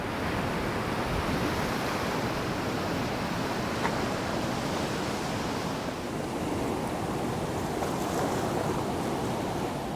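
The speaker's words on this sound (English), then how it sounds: "So that is the runoff from Bronte Lagoon over across down into Bronte Lake." Rushing runoff water pouring from Bronte Lagoon down into Bronte Lake in Tasmania, a steady, dense roar of flowing water with wind, unbroken and fairly loud throughout.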